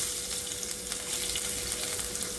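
Garlic and cumin frying in hot oil in a pan, giving a steady close sizzle with crackling pops throughout and no voices.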